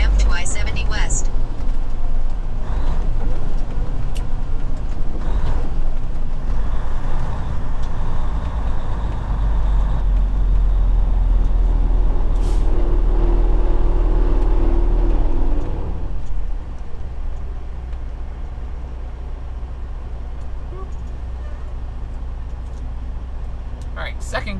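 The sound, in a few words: truck engine pulling away in second gear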